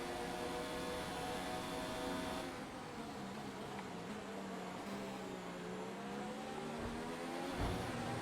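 Formula 1 race cars roar in the F1 2019 video game at the Hungarian Grand Prix, with a continuous high engine whine and shifting pitch as cars pass and overtake, steady and loud without any voice.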